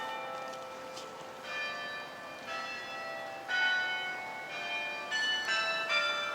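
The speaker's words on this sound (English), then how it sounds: "with the church bells in the background" Church bells ringing at a distance in Lubbock, Texas, several tolls overlapping over a steady background hum, with no talking.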